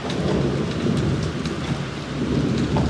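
A heavy rain shower pours down in a dense, continuous roar, with low thunder rumbling beneath it throughout, loud and close, no voices.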